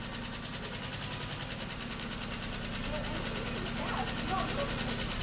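A Pontiac G6 engine runs steadily with a buzzing, mechanical drone that builds slightly toward the end as it is revved during an oil change, with people talking over it.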